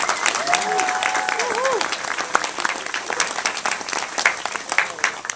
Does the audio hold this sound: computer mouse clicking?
no